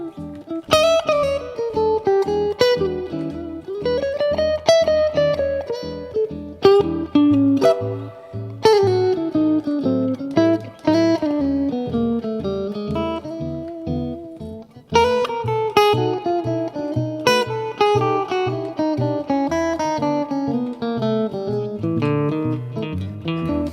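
Guitar improvising on the E bebop dominant scale, a steady stream of quick single notes running up and down over a low sustained bass, continuous and fairly loud with no talking.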